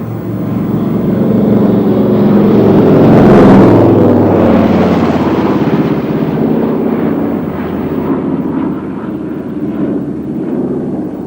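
A Douglas DC-4 four-engine propeller airliner at the RIAT 1998 airshow produces a loud, steady engine drone that swells and peaks briefly, then continues rumbling throughout.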